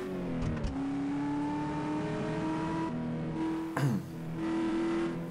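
Virtual caravan car engine in a parking simulator game revving steadily, a droning harmonic tone that shifts pitch up and down with a brief dip and swell near the end, with no talking.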